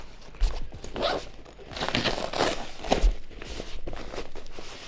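Zipper on an Elecom Normas DGB-S031BK SLR camera bag being pulled open and closed in several quick rasping strokes, close and moderately loud, with soft handling rustles between.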